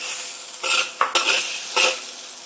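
Beaten egg sizzles and spits in a hot cast iron wok while a utensil scrapes and stirs in a few quick strokes, close up with no voices.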